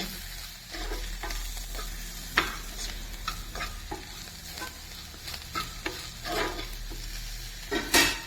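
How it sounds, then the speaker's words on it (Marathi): Spices sauté in a pan for a home-style amti, with a steady sizzle under frequent spoon-stirring scrapes and a louder clatter near the end. "मसाले टाकून थोडं दोन मिनिट परतून घ्यायचं"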